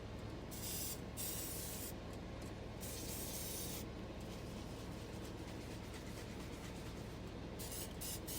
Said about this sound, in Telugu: మంచిగా ఆయిల్ స్ప్రే చేసుకున్న ప్యాన్లో